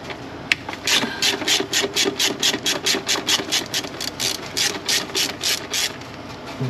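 A hand ratchet clicks in fast repeated strokes while loosening bolts on the high pressure fuel pump of a BMW 135i, close and rhythmic with a brief sharp knock near the start.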